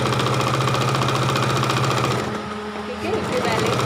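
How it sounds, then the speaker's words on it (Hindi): A sewing machine stitching the lining of a two-year-old's designer baby frock runs with a loud, steady, buzzing whirr, then dips briefly in pace before picking up again. "यहाँ से सेंटर पे पहले इस पे हम लाइनिंग पे एक सिलाई लगा लेते हैं"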